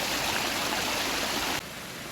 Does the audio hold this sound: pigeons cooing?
no